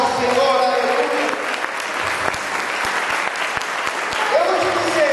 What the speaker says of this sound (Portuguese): Dê uma salva de palmas bem forte ao Senhor